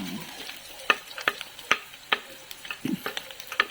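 Onion and garlic frying in a pan for pakbet, with a soft steady sizzle broken by a series of sharp spatula scrapes and taps, several close clicks spaced about half a second apart.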